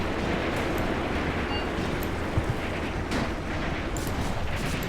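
Mortar rounds fire and land across a Soviet battlefield in Graviteam Tactics: Mius Front, heard as a steady, distant rumbling roar with a couple of faint thumps rising briefly from the din.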